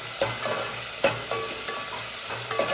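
Ingredients for chhaas bhaat frying in hot oil, with a steady sizzle under repeated sharp scrapes and knocks of a spoon stirring the pan, close and without talk.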